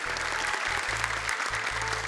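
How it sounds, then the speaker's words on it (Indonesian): Studio audience applauding a young contestant on an Indonesian children's Quran memorization TV show, a dense, steady wash of clapping held for the whole stretch, with low sustained tones underneath. "Tepuk tangan dong buat Arfan ya."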